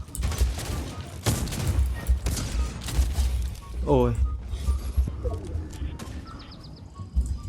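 Gunshots in the battle-royale video game Fortnite, several sharp separate cracks spread through the scene, mostly under a player's talk, with other game effects in between.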